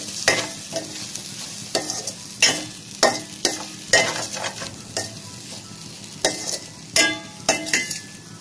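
Okra (ladies finger) stir-frying in a pan, with irregular bursts of a spatula scraping and tossing over a steady low sizzle, loud and close with no talk.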